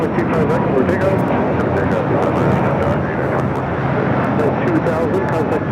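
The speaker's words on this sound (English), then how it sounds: "This is United Airlines 2000 taking off to Denver, Colorado on the A321neo" A United Airlines Airbus A321neo departing for Denver from Los Angeles airport, a loud continuous broadband engine roar holding steady throughout, close and dense with no voices on top.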